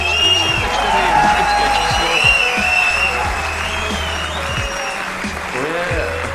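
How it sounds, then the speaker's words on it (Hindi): Loud applause and cheering fill a large arena at an athletics event, with whoops over the clapping while a voice talks through it. "जोरदार तालियां होनी चाहिए यार।"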